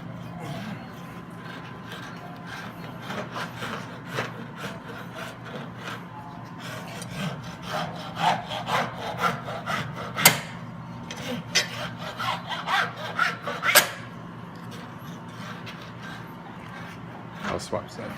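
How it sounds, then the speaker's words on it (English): A farrier's rasp filing a horse's hoof while fitting a flip-flop shoe: repeated gritty scraping strokes, quiet at first then louder and faster, with a voice talking throughout. "Notice all this filings comes off really easy with a rasp."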